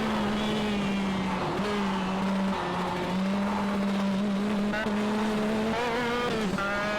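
A shifter kart races around a track, its high-revving two-stroke engine holding a steady buzzing whine that dips briefly at gear changes and then climbs again, with a faint squeal of tyres near the end.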